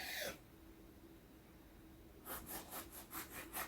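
A knife saws through a loaf of challah bread, a series of rhythmic back-and-forth strokes arriving after a brief pause, close and fairly quiet.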